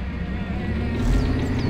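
MAZ 7310 truck in the Spin Tires video game, its engine revving with the winch engaged, a close, steady diesel rumble that swells toward the end, with no voices over it.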